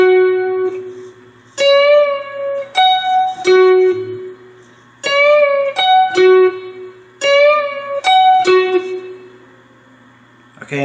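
A 4-string cigar box guitar plays a phrase slowly, with single plucked notes ringing out in short groups and clear pauses between them. It sounds close and clean, with no talking over it.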